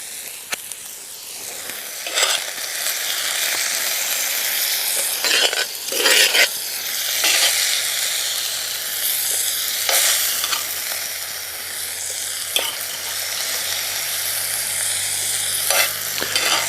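Beef ragu sizzling hard in a pan while alcohol cooks off, a loud continuous hiss broken by repeated scraping stirs of a spoon against the pan, close up with no talking.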